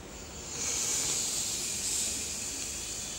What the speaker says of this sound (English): you can hear that sound of boost. So the intensity of the steam has increased